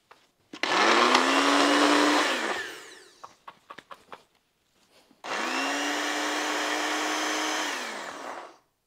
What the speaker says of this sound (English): Now you blend this until smooth.